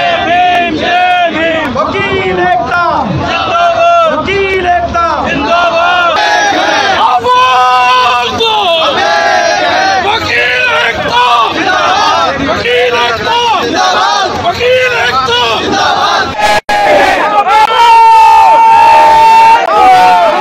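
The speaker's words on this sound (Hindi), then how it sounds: "सुप्रीम कोर्ट के बाहर प्रदर्शन किया और पैदल मार्च निकालकर सरकारों के खिलाफ जमकर नारेबाजी की" Lawyers march in protest outside the Supreme Court, a crowd chanting slogans in loud rhythmic unison with call-and-response shouts, dense and close, voices overlapping for the whole stretch.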